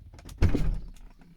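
A VW Eos door opens with a solid thunk, followed by a brief electric whir of its window motor lowering the glass slightly, close by with no talking.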